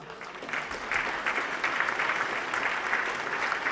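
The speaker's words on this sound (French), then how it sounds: "on peut les applaudir maintenant" An audience applauds performers at the end of a show, a steady, dense clapping that holds at an even level for the full few seconds with no voices over it.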